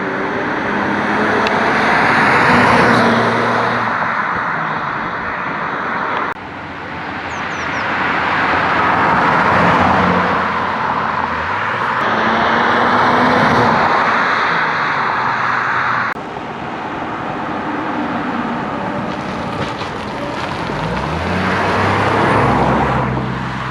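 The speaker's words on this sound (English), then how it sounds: "let's take the Skywagon for a bit of a drive" A Nissan Stagea wagon with an RB25DET engine drives along, a loud, continuous engine and road roar that swells and eases in long waves as it accelerates and shifts.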